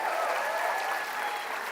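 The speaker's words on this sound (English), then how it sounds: "Let's clap loudly." A crowd applauds at a BBA management and marketing convocation ceremony, a dense, steady wash of clapping from many hands that stays loud and even throughout.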